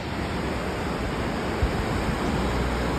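Fast-flowing river water on the road from Rishikesh toward Govindghat, a loud, unbroken broadband rush close by, with a faint low thump midway and no talk over it.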